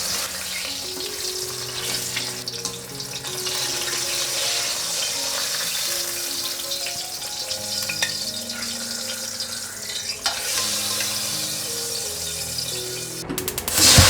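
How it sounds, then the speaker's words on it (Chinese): Shiitake mushrooms stir-fried in oil in a wok give a steady, close, loud sizzle for the whole stretch, with scraping stir strokes and a sharp clack near the end, and no voices. "香菇先用油这样子炒过，等下会比较顺口，比较滑嫩。"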